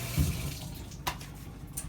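Water runs steadily from a tap in an off-grid tiny house with a recirculating water system, a faint, soft continuous splash with no talking.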